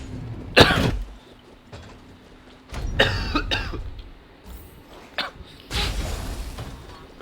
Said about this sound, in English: I'm gonna be coughing into the mic a lot